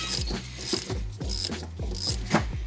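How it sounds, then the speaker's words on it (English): A 1/4-inch ratchet turns on a 2022 Honda Civic Si brake caliper, giving five or six quick, evenly spaced bursts of close pawl clicking in a steady rhythm. "1/4 inch ratchet, make sure it's on tighten"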